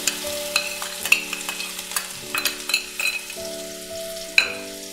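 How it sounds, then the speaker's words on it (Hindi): Ginger, garlic and green chili paste sizzles with cumin in a hot pan, giving a soft steady frying hiss broken by scraping and clinking stirring strokes, close and without talk. "जीरा हमारा सिक गया है, अब इसमें अदरक लहसुन और हरी मिर्च का पेस्ट।"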